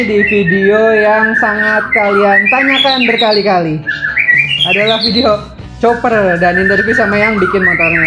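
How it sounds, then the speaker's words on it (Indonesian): A bird at a custom motorcycle shop gives loud, repeated squawks and whistling calls close by, nearly continuous over someone speaking throughout. "di sini gue lagi di Sirkus Lokal Custom dan ada burung yang selalu berbunyi ya"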